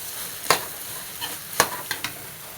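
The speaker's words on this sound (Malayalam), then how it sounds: "ഒരാൾക്ക് കഴിക്കാനുള്ള ചോറിൻ്റെ സാധാ ചോറ് ഇതിൽ ഇട്ട് മിക്സ് ചെയ്യണം." Plain cooked rice being stirred into an egg mixture in a pan for egg rice, a few sharp scraping clinks of a utensil against the pan at irregular intervals over a faint background hiss.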